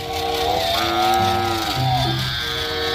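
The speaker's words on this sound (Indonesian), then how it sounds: "ini ada sapi mo" A cow moos loudly and close by at an animal park, one long drawn-out call with a second rising moo near the end, with no talking over it.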